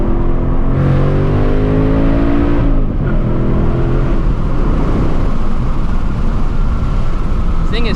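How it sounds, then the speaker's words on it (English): A 2024 Mustang GT surges hard through a second-gear pull, its loud, continuous engine roar climbing steadily in pitch, with a brief dip near the three-second mark before climbing again, close and dominant throughout. "This thing is so fun just doing 2nd gear rips, it for real is."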